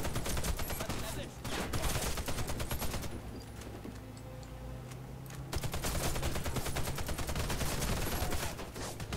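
Rapid gunfire bursts in the shooter game Warface, dense volleys of shots with a lull in the middle before heavy firing resumes, loud and close, with voices talking over the action.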